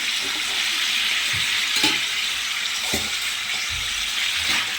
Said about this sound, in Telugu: టమాటాలు ఇట్లా ఫ్రై చేసుకొని